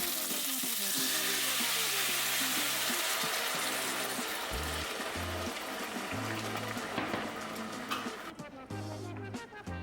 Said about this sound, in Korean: 기름에 파랑 마늘을 볶아서 향을 좀 내두다가 고기 넣고 소스 넣고 끓이기